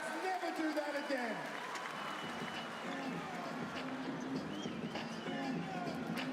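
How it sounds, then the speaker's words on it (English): Crowd noise and scattered applause in an arena at a professional basketball game between Brisbane and Sydney, a broad, fairly faint roar with clapping under a public-address voice. "Ladies and gentlemen, give me a big round of applause."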